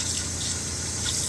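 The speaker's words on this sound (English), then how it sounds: "Switch it to a spray nozzle." Water runs steadily from a galley faucet switched to its spray nozzle aboard a C&C 39 sailboat, a continuous close hiss with no pauses.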